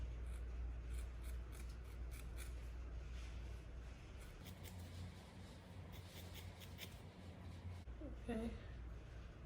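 Scissors snip repeatedly through the ends of a synthetic lace front wig in a steady run of close, crisp cuts, with a quiet voice speaking underneath.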